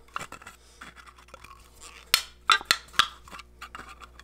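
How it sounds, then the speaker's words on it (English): Pliers crimp and twist an aluminum can in a quiet room, giving a few close, sharp crinkling crunches and scrapes of thin metal in short irregular bursts. "we're going to use our pliers and we're just going to go about an inch and a half deep and then twist the can"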